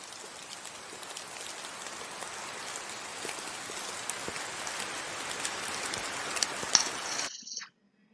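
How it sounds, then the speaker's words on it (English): Steady rain falls on a surface, a dense patter of drops at an even level throughout, with no voices, ending abruptly. "It's the sound of rain."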